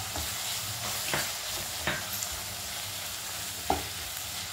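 Onion and tomato with ginger-garlic being sautéed and stirred in a pan for a mushroom potato pepper masala, a steady low sizzle with a few sharp scraping strokes of the spoon, close and fairly quiet, no talking.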